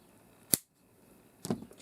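Two crisp scissor snips through earring-making material, a sharp single cut followed a second later by a slightly longer, rougher snip, close and fairly quiet with no talking.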